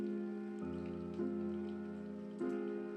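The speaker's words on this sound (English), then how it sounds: "How long has it been raining?" Rain falls in the video game If On A Winter's Night, Four Travelers, a soft patter under sustained tonal music that swells in at a few points, quiet overall.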